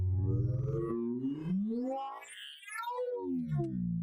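A synthesizer sound design patch built from a sine wave slides in pitch through gliding, vocal-like sweeps, rising and falling like a bent, meow-like tone, alone and fairly close.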